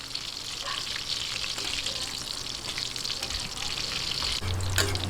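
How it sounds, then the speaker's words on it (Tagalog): Shrimp and vegetable okoy fritters sizzle in hot oil in a steady, dense crackle that stays close and constant throughout, with faint clinks from stirring or utensils. "konting prito na lang"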